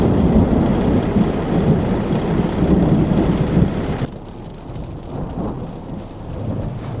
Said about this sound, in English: Thunder and lightning at its finest.